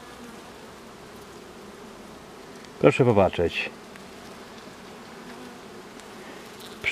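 Honey bees hum steadily around an open hive in a spring apiary while frames of capped honey are lifted out. The low, even drone runs under the whole stretch, and a person speaks briefly near the middle.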